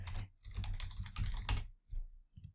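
Someone types an email address on a computer keyboard. Rapid soft key clicks come in short, quiet bursts with brief pauses between them, close by and with no talking.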